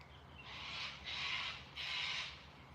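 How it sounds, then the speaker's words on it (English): Birds calling outdoors, with three harsh, drawn-out squawking calls in a row, fairly faint over a low steady hum. "I hate those birds, they sound awful."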